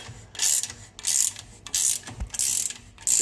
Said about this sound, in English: Start tightening on this back bolt first.